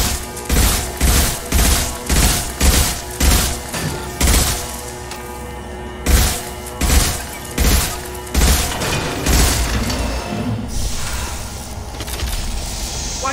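Combat in the video game Mass Effect 2 with grenade explosions and gunfire, a regular series of heavy booming thuds, a pause, then another run of blasts fading into rumbling noise.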